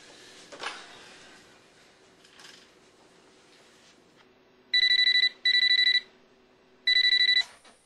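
Telephone tones for calling hotel housekeeping: quiet faint handling at first, then three loud steady electronic ringing bursts near the end, each lasting under a second with short gaps, no talking.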